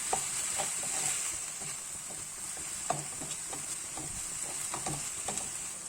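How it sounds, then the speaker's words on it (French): Spiced stuffing for stuffed vegetables sautés in a pan, a steady bright sizzle running throughout with intermittent scraping clicks of a spoon stirring the mixture, close and alone. "Voilà, on fait bien revenir le tout."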